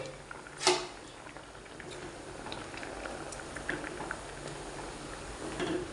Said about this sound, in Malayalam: കറി തിളയ്ക്കുന്നു.